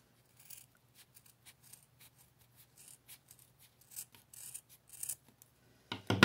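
Scissors trimming excess ribbon on a handmade Wonder Woman bow, a series of small crisp snips and rubbing sounds, close and fairly quiet, with a louder rustle at the end.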